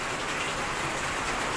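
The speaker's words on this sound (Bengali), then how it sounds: "অনেক জোরে বৃষ্টি হচ্ছে।" Heavy rain from a storm in Gazipur pours down in a dense, steady hiss, loud and close, with no voices over it.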